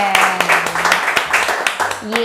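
A studio audience claps for a guest on an Indonesian comedy talk show, sharp scattered claps running throughout beneath steady talking and tonal background sounds.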